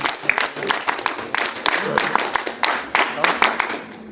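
NCC cadets clap at a national integration camp, sharp rhythmic group claps in quick bursts, close and loud, with voices underneath.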